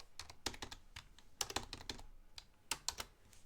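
Typing on a computer keyboard while entering a spreadsheet formula, with quick irregular bursts of close, crisp key clicks separated by short pauses and no talking.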